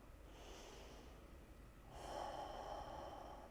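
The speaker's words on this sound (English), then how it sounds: "Breathing." Audible breaths during a yoga class, a soft inhale followed by a stronger, louder exhale through the nose, heard close and alone without talking.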